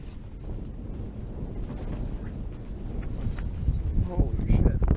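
Strong wind buffets the microphone while fishing, a constant rushing roar with gusts that swell toward the end, under bits of talk.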